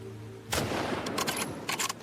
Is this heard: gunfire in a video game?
yes